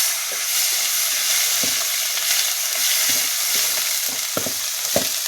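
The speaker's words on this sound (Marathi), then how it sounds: "पटकन आपण हा मसाला तळून घेणार आहे त्याच्यात" Masala spiced with coriander powder frying in hot oil for a Maharashtrian fish curry, giving a steady, close sizzle with scattered pops and stirring scrapes throughout.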